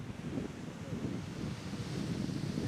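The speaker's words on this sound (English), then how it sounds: "it just will not leave them alone, that wind." Steady wind gusting across a lakeside disc golf course, buffeting the microphone with a continuous low rumble and rushing hiss that holds throughout.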